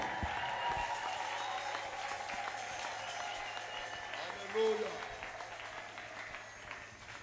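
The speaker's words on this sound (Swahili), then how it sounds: "Ongeza makofi ya bie." A church congregation applauds, a dense, sustained patter of clapping that fades gradually, mixed with voices and crowd noise in a large room.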